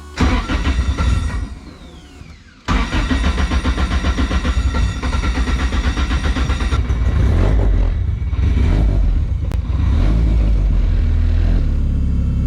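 A car fitted with a Holley Hydramat fuel pump setup drives off, its engine revving hard with a loud rumbling exhaust, a brief lift, then sustained acceleration and steady cruising roar, close and with no talk.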